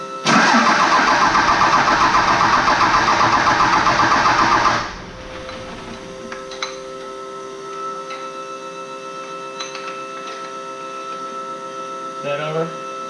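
An 850 hp 12-valve Cummins diesel cranks and fires, roaring loud for several seconds before dropping to a steady idle hum with clicks and small noises, close by.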